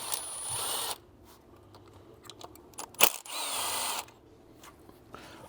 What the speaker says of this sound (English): Just using an E8 on a small impact just to speed up the process